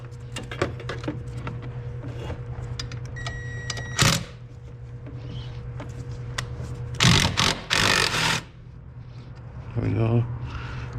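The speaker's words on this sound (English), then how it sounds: "Now I'm gonna zip off these two bolts right here and right there" A power tool zips off two 13 mm bolts holding the brake master cylinder on a 2006 Dodge Ram 1500, giving a few loud whirring bursts over a steady hum, with someone talking nearby.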